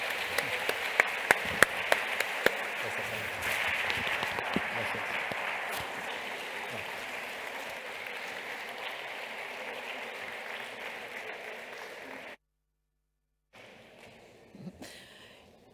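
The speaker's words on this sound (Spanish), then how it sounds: "Una salva de palmas por Carlos." Conference audience applauds for a speaker, a steady wash of clapping with a few sharp near claps at the start, fading gradually before cutting off, then faint room noise.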